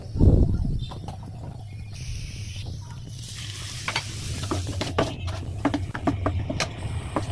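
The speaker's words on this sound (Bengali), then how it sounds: "লবণ, হলুদের গুঁড়া, মরিচের গুঁড়া, আদা বাটা, রসুন বাটা, জিরা বাটা দিয়ে সুন্দর করে মশলাটাকে কষিয়ে নেব।" Spice paste of salt, turmeric, chili, ginger, garlic and cumin sizzles steadily in a pan for a katla fish dish while a spatula scrapes and taps, a louder scrape at the start.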